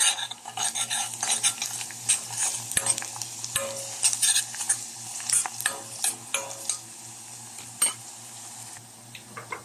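Garlic fries in a pan for macaroni with a bright crackling sizzle, punctuated by frequent clattering stirs and spoon knocks against the metal, close and lively with no speech.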